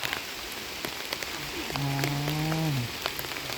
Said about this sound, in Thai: ฝนตกแรงแล้วนะคะ